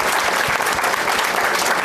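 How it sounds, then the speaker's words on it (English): An audience at the end of a panel discussion claps loudly and continuously, a thick wash of applause for the whole short stretch. "could you give a round of applause? Thank you for your participation."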